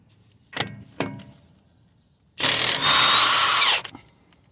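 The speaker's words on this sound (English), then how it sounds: "now I'm gonna be taking this axle nut out" A power tool works on a 12-point 30 mm axle nut on a Toyota: two sharp metallic clicks, then a single loud, close burst of whining rattle lasting over a second before stopping.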